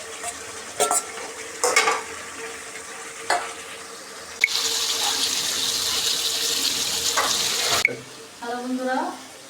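Spiced masala frying in a pan as tomatoes are added for a pangas fish-head muri ghonto curry, with sharp scrapes and clanks of stirring, then a burst of louder, steady sizzling, and a voice briefly heard near the end.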